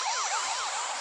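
A police car siren wails steadily, its rising and falling sweeps overlapping as if several tones sound at once, loud and close throughout a brief stretch with no voices.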